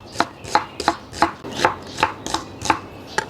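Knife chopping garlic and onion on a cutting board for lechon belly stuffing, about ten crisp evenly spaced cuts, close and clear with no talk.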